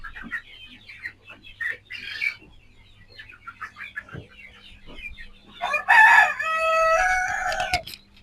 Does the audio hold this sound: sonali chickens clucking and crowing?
yes